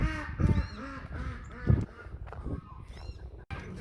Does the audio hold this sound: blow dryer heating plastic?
no